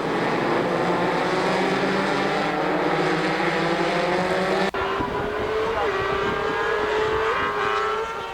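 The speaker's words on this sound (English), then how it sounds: "Formula E cars coming through turn 5, hard on the brakes." Formula E race cars brake hard into turn 5 and jostle in a tight pack at the start of the race, a loud continuous whine of several cars with pitch shifting as they slow and pull away.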